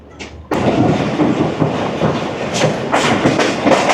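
The Sir Syed Express pulls out of the Karachi Cantt yard, heard from inside the train as a loud, steady rumble with rhythmic clickety-clack of wheels over rail joints and occasional thumps, with no talk.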